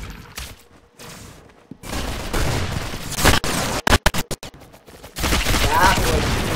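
Roblox video game gunfire, including shotgun blasts, in rapid sharp bursts and a quick volley, loud and close amid game noise, with some talk mixed in.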